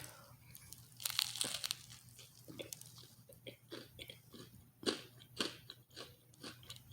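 Crunchy chewing and biting into a Burger King spicy fried chicken sandwich, loud and close, in irregular bursts with quiet gaps between bites.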